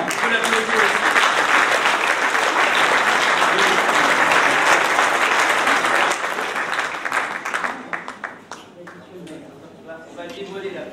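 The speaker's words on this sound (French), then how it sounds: "il faut l'applaudir aussi" Audience at a municipal New Year ceremony applauds a newly introduced library director, loud sustained clapping for about eight seconds that thins out and fades as a voice resumes speaking.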